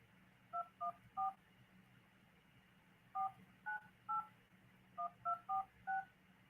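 Touch-tone keypad beeps from a phone dialing a number, in three quick bursts of dual-tone presses, three then four then five, moderately loud with no talk.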